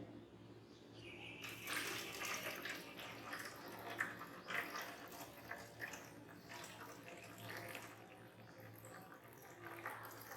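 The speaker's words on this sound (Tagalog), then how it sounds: "flush the perineum thoroughly with sterile warm water, starting again from top to bottom" Sterile warm water poured over the perineum during a perineal flushing procedure: a steady, close splashing and trickling stream that starts after a quiet second and runs on unevenly to the end.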